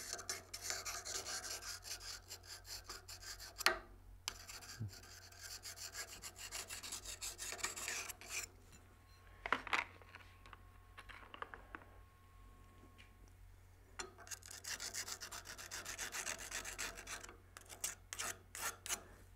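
A turning tool's hook cutter edge is honed by hand, giving faint, repeated rubbing strokes in bursts, with scraping passes separated by brief pauses and a quiet background hum.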